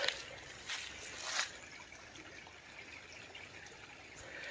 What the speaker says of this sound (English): And that is our creek.